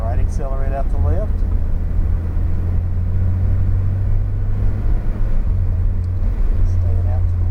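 A Porsche engine drones steadily on a driving track, a deep close rumble and road noise under continuous instructional talk from a voice in the car.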